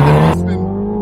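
A 2021 Mini JCW makes a launch-control start, its engine roaring at high revs with tire noise. The sound cuts abruptly to a lower, steadier engine note as the car pulls away.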